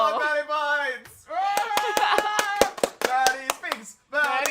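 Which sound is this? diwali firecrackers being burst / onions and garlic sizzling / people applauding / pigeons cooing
people applauding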